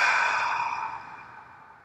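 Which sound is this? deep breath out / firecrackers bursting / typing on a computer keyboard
deep breath out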